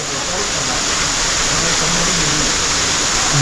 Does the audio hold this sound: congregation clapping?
no